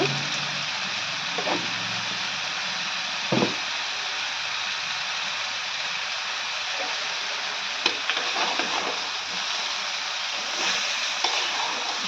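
Fenugreek seeds fry in a hot pan for a tomato pickle, giving a steady, close crackling sizzle throughout with a few sharper pops and clinks.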